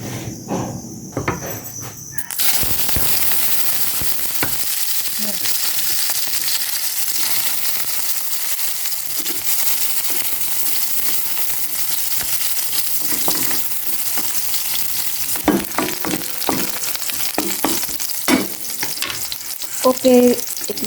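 Eggs frying in plenty of cooking oil, a loud steady crackling sizzle held close for the whole stretch, with a few clinks and stirring scrapes near the end.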